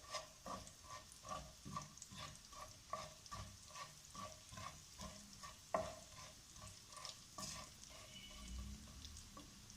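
Cumin seeds frying in a pan, soon joined by chopped garlic and ginger, with steady soft sizzling and repeated stirring scrapes in a regular rhythm, close and fairly quiet, no voices.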